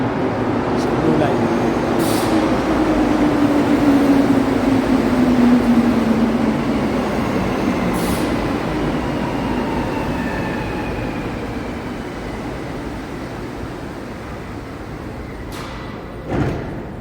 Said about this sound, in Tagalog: parating na yung tren natin